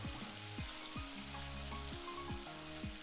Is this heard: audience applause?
no